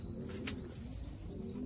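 A pigeon held in the hand gives low, soft cooing under steady background hum, with a brief faint rustle partway through, close but quiet.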